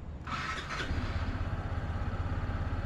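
A brief starter whir followed by a Motorstar Legend 125 FI motorcycle engine catching and settling into a low, steady idle at night, close and moderately quiet.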